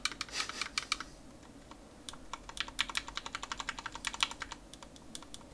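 Fast typing on a Tofu 60 mechanical keyboard with rattling stabilizers, a close, steady stream of sharp clacks with occasional louder, rattly key hits.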